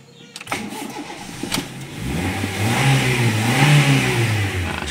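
A car engine turns over a few times on the starter after a battery negative cable is added to the engine block, then catches and settles into a loud, close idle with a slight rev.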